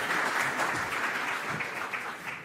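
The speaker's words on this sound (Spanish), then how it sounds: "Recíbanlos con un aplauso" Sustained audience applause greeting two speakers as they come on stage at a Buenos Aires business seminar, a steady dense wash of clapping lasting the whole stretch with no voices over it.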